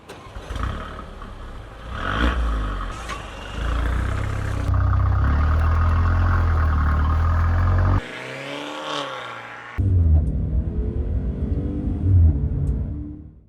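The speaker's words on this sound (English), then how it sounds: "I'd love to show you what this Mercedes-Benz CLA 250 drives like" 2015 Mercedes-Benz CLA 250 being driven, its engine and road noise rising and falling as it accelerates, with a brief drop and abrupt cuts between segments, close and steady with no talk.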